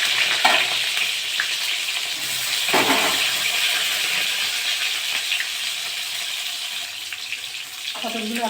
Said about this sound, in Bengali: তেলটা গরম হয়ে গেছে, আমি এবার পটল ভাজবো।